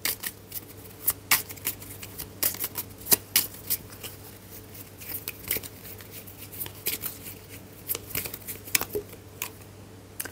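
Oracle cards are shuffled up close during a tarot-style reading, with a run of crisp, irregular riffling snaps and slaps over a quiet background and no speech.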